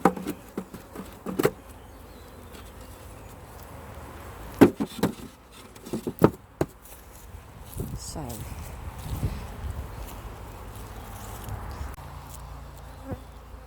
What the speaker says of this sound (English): There, as we see, nice dark bees.